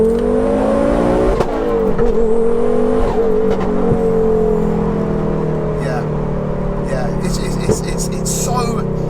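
A 530 bhp big-turbo, four-wheel-drive-swapped Ford Focus ST pulls hard in second gear, its engine droning and climbing in pitch, loud and close from inside the car, with a voice talking over it.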